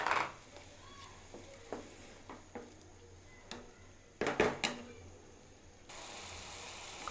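Tomato and spices being stirred and sautéed in a pan for an okra and prawn curry, with scattered utensil scrapes and taps over a quiet low sizzle, then a brief louder burst of stirring near the end.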